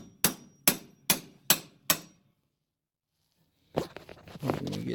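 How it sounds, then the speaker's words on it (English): A hammer strikes a rivet in a sheet metal crease during a skoolie bus conversion, giving five sharp, evenly spaced metallic knocks close by. A pause of near silence follows, then rustling handling noise. "you take your hammer, you go into the little crease"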